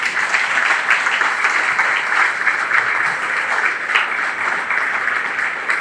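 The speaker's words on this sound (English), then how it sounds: "I'd like you to all give her a set of applause as she comes up" Steady, sustained applause from a crowd at a county fair opening ceremony, even and fairly loud throughout with no talking over it.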